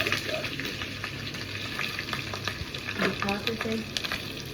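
Onions, tomatoes and green chillies frying in a pan, with a steady close sizzle and a few stirring scrapes throughout.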